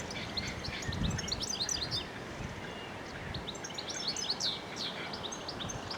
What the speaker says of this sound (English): There you are, just caught that goldcrest.